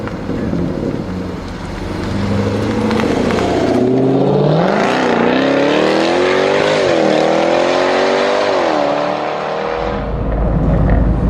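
A rear-engined sports car in paddle-shift mode accelerates hard, its engine note climbing through several gears with rising, dipping pitch sweeps before settling, loud and close throughout.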